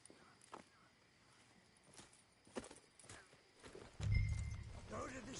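A horse in Red Dead Redemption 2 clip-clops at a walking pace, its hoofbeats close and steady, ending with a louder snort or whinny-like burst.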